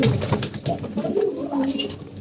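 Pigeons coo nearby in low, throaty, rolling calls, a couple of soft bubbling phrases in quick succession.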